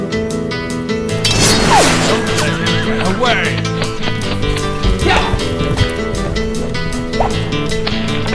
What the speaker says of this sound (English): Get that horse moving.